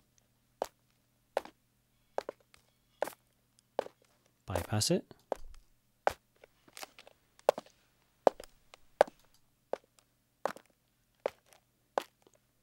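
Foley footsteps processed through the Krotos Reformer plugin, a steady sequence of crisp, evenly spaced steps with a brief louder crunchy burst partway through, close and fairly quiet, with a few spoken words.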